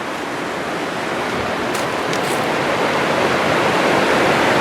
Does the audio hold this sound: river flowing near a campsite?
yes